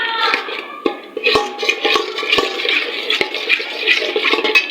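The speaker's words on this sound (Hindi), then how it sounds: "तो अब मैं इसके अंदर शामिल करूंगी दूध।" Milk is poured a little at a time into melted, browned sugar in a pan to make rabri. A crackling, bubbling hiss is broken by sharp pops and clicks close by.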